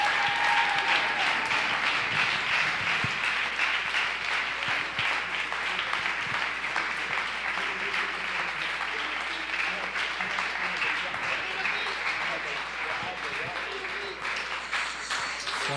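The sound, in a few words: audience applause after a talk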